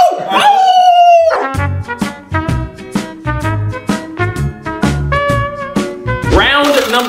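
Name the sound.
person imitating a dog barking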